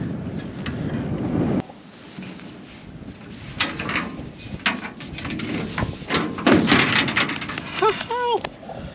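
Strong wind gusts at the top of a farm grain bin, buffeting the microphone in loud, uneven bursts, with knocks and creaks of the structure and a brief whistling tone near the end.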